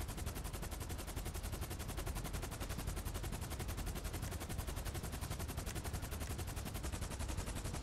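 Rapid automatic gunfire in GTA 5 Online, aimed at the Cargobob pilot, rattles on as a dense unbroken burst of evenly spaced shots for several seconds, with no talking.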